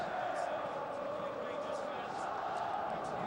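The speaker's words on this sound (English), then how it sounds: "So the Rangers fans are certainly making themselves heard. And this big crowd." Rangers supporters roar and chant steadily within a large crowd at a big football stadium during a 1995 Champions League match against Borussia Dortmund, a continuous distant wash of cheering with commentary spoken over it.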